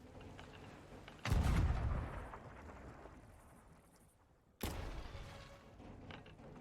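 Ship cannons aboard a sloop in Sea of Thieves fire in two heavy booming blasts a few seconds apart, each with a sharp onset and a long rumbling decay over faint background ambience.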